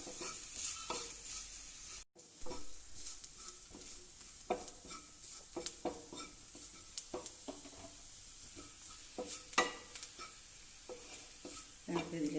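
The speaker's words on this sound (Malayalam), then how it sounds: "നന്നായി ഒന്ന് ഇളക്കി യോജിപ്പിച്ച്" A spoon scrapes and stirs chicken masala mixture around a hot pan, irregular close scraping strokes over a soft, steady sizzle of frying.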